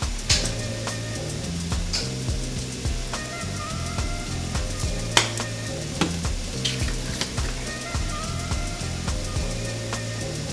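Creamed spinach cooks in a pan, a continuous close sizzle broken by frequent scraping stirs and clicks of a utensil, with no voices.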